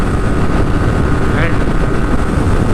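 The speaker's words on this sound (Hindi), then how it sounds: "अच्छा लगता है अपनी बाइक को आगे जाते हुए देखते" A Yamaha motorcycle, a 250cc FZ25 or an R15, races on the road with a steady engine drone buried under heavy, constant wind rush across the microphone, and a voice comes through faintly.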